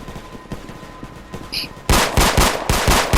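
Rapid bursts of gunfire in a Roblox game ring out, quieter shots at first, then a loud close volley of repeated shots near the end.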